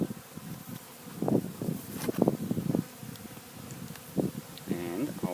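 Honey bee swarm droning steadily near a swarm box, a continuous buzzing hum that swells and fades, with someone talking over it throughout.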